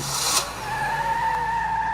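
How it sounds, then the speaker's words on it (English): A car in an audio drama pulls away with a short tire skid and squeal, then its engine settles into a steady drone as it drives off, heard alone without voices. "Agent Duncan hopped into her car and drove away."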